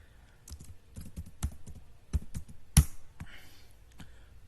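Typing on a computer keyboard while entering text into an Excel spreadsheet: a quiet, irregular run of close key clicks with one sharper, louder keystroke near the end.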